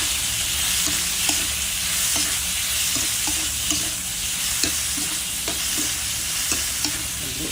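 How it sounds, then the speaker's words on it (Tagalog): Chop suey frying in a pan while being stirred: steady bright sizzling with repeated soft scraping of a utensil against the pan, close and continuous, with no voices. "haluin natin"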